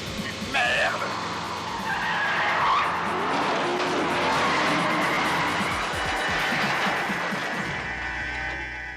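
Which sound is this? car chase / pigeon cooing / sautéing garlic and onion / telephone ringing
car chase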